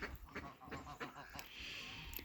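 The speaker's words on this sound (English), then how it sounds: "this is the goose that I rescued" A rescued goose with an injured leg honks in a few short, quick calls on a farm, close by and fairly faint, with a voice talking underneath.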